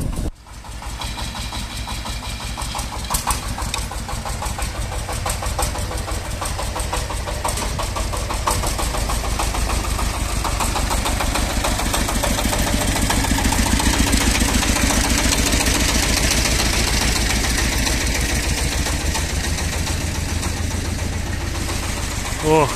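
A farm vehicle's engine runs loud and close, revs lightly and pulls away with a steady mid-pitched drone, while someone talks over it.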